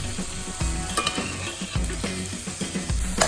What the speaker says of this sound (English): Now I'm going to let the mushrooms cook for a bit